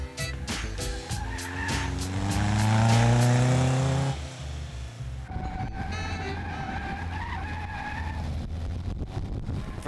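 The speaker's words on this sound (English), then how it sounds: "Just keeps spinning out all the time" A Caterham race car's engine wails and climbs in pitch as tyres squeal through a skid and spin, then the motor drops to a lower, rougher drone while the car recovers.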